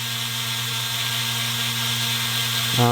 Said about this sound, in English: Just give it a quick polishing, should be good.